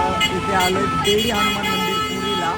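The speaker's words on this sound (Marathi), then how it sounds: "मागे हॉर्न हॉंकिंग खूप चालू आहे" Car horns honk repeatedly in busy street traffic near a temple in Puri, sounding loud and close behind someone talking throughout.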